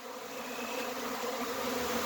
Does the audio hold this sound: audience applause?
no